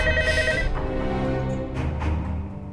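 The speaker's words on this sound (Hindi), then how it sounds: "फोन बज रहा है, कोई उठाने वाला नहीं है।" A telephone rings loudly and continuously inside a large house, its steady bell tone repeating for a few seconds with no one answering and no talking.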